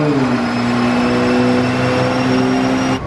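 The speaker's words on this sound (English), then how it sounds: "apparently with the tune, the startup sounds pretty gnarly" A tuned turbo Toyota Supra running after startup with a loud, steady engine drone and a slowly falling tone, cutting off sharply near the end.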